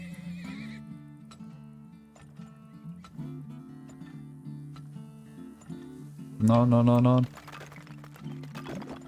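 Horses in the video game Turmoil give a loud, close whinny midway, with soft hoof clip-clops scattered through a steady game music bed and someone speaking briefly over it.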